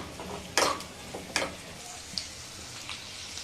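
Cashews frying in ghee in a pan, with sharp crackling pops and spatters standing out over a steady, low sizzle.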